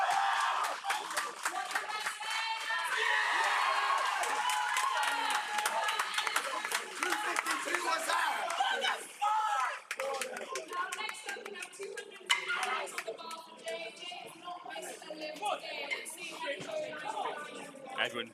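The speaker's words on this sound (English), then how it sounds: "You can hear the crowd react." Crowd at the Welsh Powerlifting Autumn Cup reacting to Ellis's 245 lift with cheering, clapping and shouting, steady and loud throughout, swelling again after a brief dip midway.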